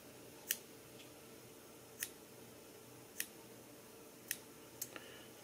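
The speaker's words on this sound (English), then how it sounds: "I'm going to cut them away from the stem." Five faint, crisp scissor snips at uneven intervals, cutting marabou feathers from the stem, against a quiet background hiss.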